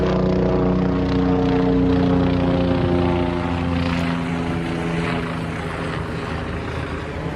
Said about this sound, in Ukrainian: Дуже гучно ці гелікоптери тут.